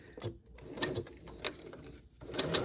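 A freshly serviced sewing machine stitches a sheer curtain hem with an odd mechanical clatter, coming in short irregular bursts of ticking and whirring at moderate volume.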